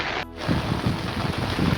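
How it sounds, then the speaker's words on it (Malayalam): Steady, close rain pours down outdoors on a windy day out, a dense unbroken hiss that runs from start to finish with a brief muffled dip near the beginning. "ഇതാണ് മഴ."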